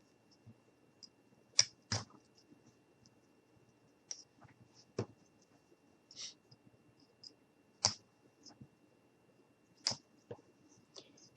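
An X-Acto knife cuts across craft material in short, quiet strokes, giving a series of sharp clicks and scratchy ticks spaced a second or two apart against near silence.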